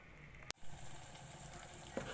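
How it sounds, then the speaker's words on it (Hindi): Half a kilo of frozen mutton liver frying in a pan as its water cooks off, a steady soft sizzle throughout with one sharp clatter near the start and a faint clink toward the end. "अब इसको मैं इसका पानी खुश्क करके इसको भून लूँगी।"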